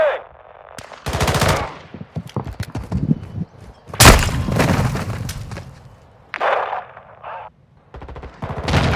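Bursts of automatic gunfire from Call of Duty: Modern Warfare II hammer out in loud, rapid volleys separated by brief pauses, with sharp single shots and debris sounds between them.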